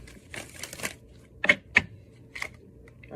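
Tarot cards are shuffled in a handful of quiet, crisp riffles and snaps, spaced irregularly and heard alone against near silence.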